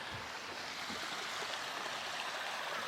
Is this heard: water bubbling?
yes